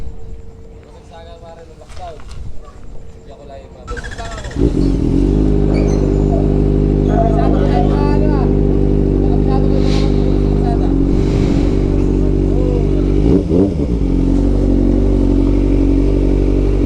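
A Kawasaki Ninja ZX-4RR motorcycle engine starts a few seconds in and then idles loud and steady close by, with people talking faintly over it.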